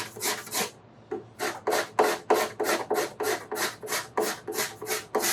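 Steel hand scraper dragged over the binding on a steel-string guitar body, a steady run of about a dozen rasping strokes in an even rhythm after a short pause, close and fairly loud with no talk.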